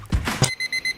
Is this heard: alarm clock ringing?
yes